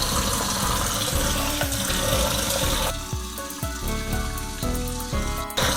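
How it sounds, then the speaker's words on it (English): Beef tripe rinsed under cold running tap water in a sink, a loud close steady gush of water, with splashing and changing tone as the tripe is handled, no speech. "we're gonna start out by rinsing this off 3 times"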